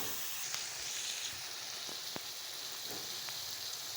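Okra with soy sauce fries on medium heat, a soft, steady sizzle and hiss with faint scattered pops, heard close and quiet with no talk.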